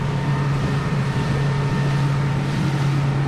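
A Saxdor 200 motorboat runs at about 24 knots, its engine drone steady and loud throughout under broad wind and water rush, with no speech.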